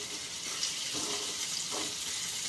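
Onions sautéing in a pan for a home-cooked adobo of banana heart, a steady soft sizzle of frying with a couple of brief stirring scrapes, close and continuous without any talking.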